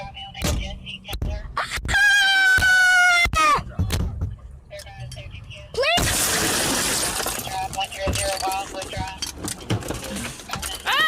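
Car window glass shattering in a loud sudden burst of crashing and tinkling fragments, preceded by thuds and a shrill screaming voice, with frantic talking and yelling continuing over the scattered debris sounds.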